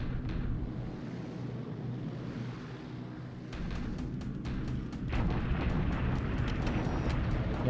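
Bombing raid explosions in War in the Pacific roll as a steady, distant low rumble, with scattered crackling blasts that grow denser and louder toward the end.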